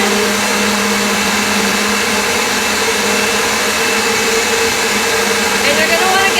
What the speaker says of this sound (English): It is warm from the stove, and I'm going to blend it.